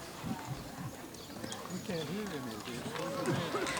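A 10-year-old Tennessee Walker horse from Georgia in a horse and carriage parade, its hooves clip-clopping at a steady gait under the crowd noise while an announcer talks over it.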